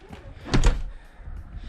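Volvo 850 car door, in a dirty, worn interior with doors that won't stay open, slamming shut in one loud close thunk.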